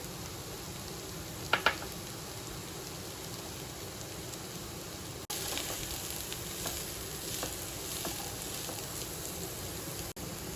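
Baby corn, carrots and capsicum stir-frying in a hot pan for a Chinese mixed-veg hot garlic sauce, giving a steady close sizzle with a couple of sharp clatters early on and a louder, denser frying hiss after more vegetables go in.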